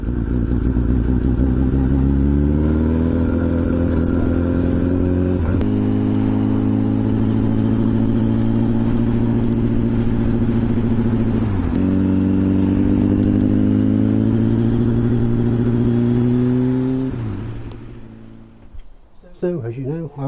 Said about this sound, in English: I can't sell it with spluttering like that, can I?